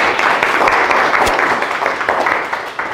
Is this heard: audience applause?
yes